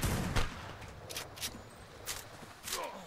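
Sharp gunshots crack out in uneven bursts during a PvP firefight in ARK, with shuffling footsteps between the shots, fairly faint and spread over a few seconds.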